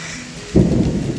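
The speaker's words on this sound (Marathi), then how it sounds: "सडनली खूप धुवाधार पाऊस चालू झालेला आहे" Sudden downpour of heavy rain on a fort trek to Kalavantin Durg in Maharashtra, bursting in loud after a quiet moment and continuing as a dense, steady roar with a thunder-like rumble and no voices.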